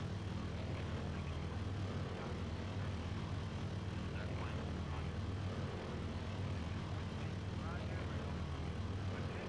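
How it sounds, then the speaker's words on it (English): A B-25 bomber passes in the IL-2 1946 flight combat game, its piston engines making a steady, loud, low droning roar that holds evenly throughout. "B-25 flying by in the background."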